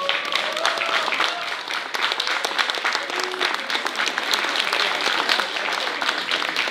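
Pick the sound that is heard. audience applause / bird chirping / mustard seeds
audience applause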